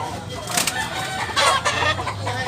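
Chickens and roosters at a poultry sale in Tabunok, Cebu, clucking and crowing close by amid steady market bustle, with a few brief bursts standing out over the noise.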